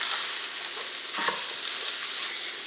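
Diced onion is stirred into beef frying in a pan, with a dense, bright sizzle and a few soft scraping strokes as the pieces are turned, heard up close without talk.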